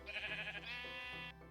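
A single drawn-out sheep bleat from Beta Minecraft, wavering and nasal, sounds alone over a faint background tone.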